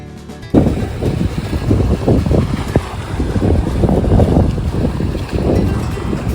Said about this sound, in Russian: Такие сильные волны.